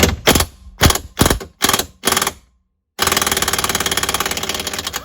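Impact wrench or ratchet working a T50 Torx bolt loose on a Jeep Wrangler: five or six sharp, rapid bursts with short gaps, a brief pause, then a steady continuous rattling hammer run, loud and close.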